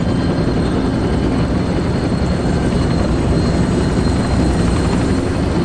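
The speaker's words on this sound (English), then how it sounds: "This helicopter's taking off." A video game helicopter taking off roars steadily with a dense, rumbling rotor and engine drone, loud and close throughout, no voices.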